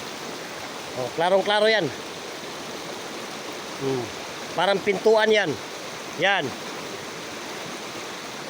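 River water flows steadily at a riverbank, a constant rushing wash under someone speaking in short phrases.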